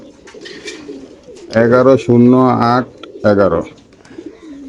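Racing pigeons at a pigeon farm give short bursts of cooing, close and fairly loud, with low murmuring and a voice reading out a number around them.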